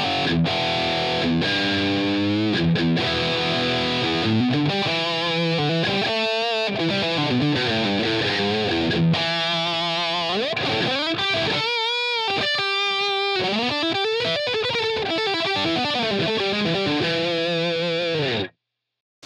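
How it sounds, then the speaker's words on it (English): An electric guitar runs through a Line 6 Helix Elektrik amp model into a 4x12 Greenback cab, miked with a 421 dynamic mic 3.5 inches back. It plays a continuous, heavily distorted riff of sustained chords and bends, loud and alone, then stops abruptly. "So all we're hearing right now is the 412 greenback with the 421 dynamic mic"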